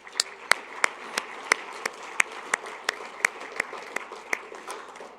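Audience applause at a water convention awards banquet honoring silent auction sponsors: a steady wash of many hands clapping in a hall, with sharp, regular louder claps punctuating it, moderately distant and without talk.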